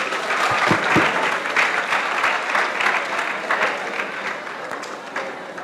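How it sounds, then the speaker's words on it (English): Audience applause at a school career expo, a steady dense wash of clapping from a crowd that holds throughout and tapers slightly toward the end, with no talk over it. "A round of applause, ladies and gentlemen."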